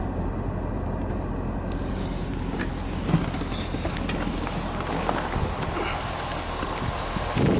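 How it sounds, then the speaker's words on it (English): A 2005 Chevrolet Corvette C6 with a 400 horsepower LS2 engine, automatic transmission and 37,000 miles, idles with a steady low rumble and broad hiss, with light rustling and knocks close by. "This is the 400 horsepower LS2 engine."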